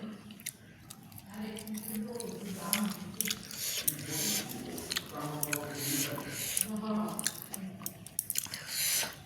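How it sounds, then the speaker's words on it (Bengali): Someone eating fried puti fish with potato and onion over rice, close moist chewing and squishing with soft bites, intermittent and near, alongside low talk. "তো আমি এবার খেয়ে নিই"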